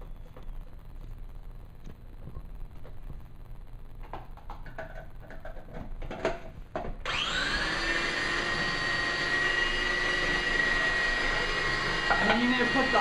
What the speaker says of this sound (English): make sure it's all blended because it should have a creamy consistency